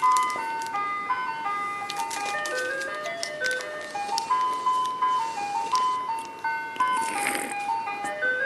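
An ice cream truck's tinkling chime melody plays steadily and fairly loud throughout, with brief bursts of noise near the end.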